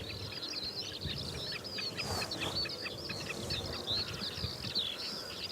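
Small wild bird in the Britain and Ireland countryside giving rapid repeated sharp chip calls, fairly near over a steady outdoor background hiss, with a brief softer rushing sound midway.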